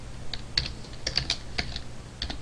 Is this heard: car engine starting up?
no